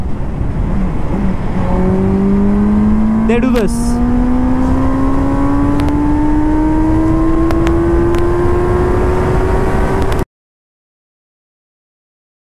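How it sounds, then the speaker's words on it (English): A Benelli 600i four-cylinder motorcycle engine revs at high rpm, its whine climbing steadily in pitch for about ten seconds, loud and close, then cutting off abruptly; a brief voice is heard partway through. "They wanted to use the higher revs. They wanted to extract the power"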